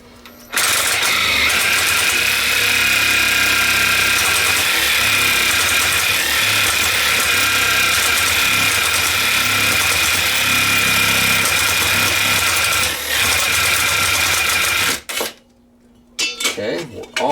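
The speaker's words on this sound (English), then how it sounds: "we're going to drill a hole through all of this material" A power drill bores a hole through solar panel leg material, grinding loudly and steadily for about fourteen seconds before stopping, then a few short bursts follow.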